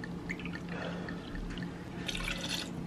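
Coconut rum poured into a festive mixed drink, a soft steady liquid trickle with faint drips, close by and fairly quiet, with no talking.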